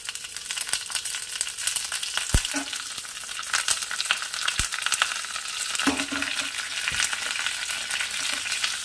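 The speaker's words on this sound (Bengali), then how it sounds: "এর মধ্যে একটু কালো সর্ষে, দিয়ে দেব কিছু ফ্রেশ কারি পাতা" Black mustard seeds and fresh curry leaves sizzling in hot oil for a tempering, a continuous crackling hiss with scattered sharp pops and spits, close and alone.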